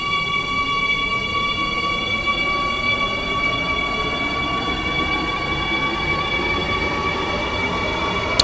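A metro train in the game SCR runs steadily with a constant rolling rumble and bright sustained tonal whine, continuous and close, with no talking.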